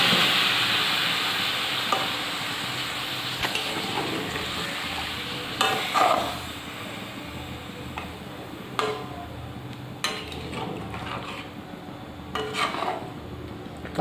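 Water poured into potatoes and peas frying in a wok, followed by a steady sizzle and bubbling with intermittent scraping strokes of a spatula stirring, close and moderately quiet.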